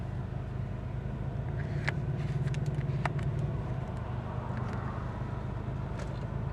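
A Geo Metro's small engine idles at about 1,000 rpm, giving a low, steady drone from inside the car with a few faint clicks and rattles over it and no talking.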